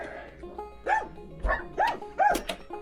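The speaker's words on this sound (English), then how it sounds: "You just want to bark at daddy." Pet dogs bark at their owner from indoors, four or five separate yaps and woofs close by in a short burst, with brief pauses between them.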